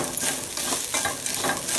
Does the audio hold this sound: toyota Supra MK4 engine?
no